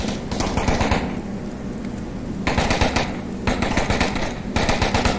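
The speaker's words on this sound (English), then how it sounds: "They're shooting big time." Sustained automatic gunfire in the virtual reality shooter Onward, loud rapid bursts rattling in long stretches with brief pauses between volleys, close and dense.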